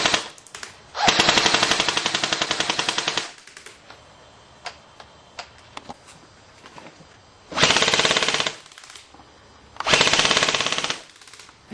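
A Classic Army Sportline M15A4 airsoft rifle on a 9.6 battery fires three rapid full-auto bursts, loud and close, with scattered single clicks and pops between them.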